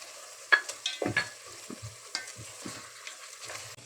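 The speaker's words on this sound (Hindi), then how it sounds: "ये वाला साबुत खड़ा गरम मसाला, ये भी साथ के साथ डाल देंगे।" Whole garam masala spices, black and green cardamom, cinnamon sticks and a bay leaf, frying in oil with cumin seeds, giving a faint sizzle broken by a few sharp pops and stirring clatters.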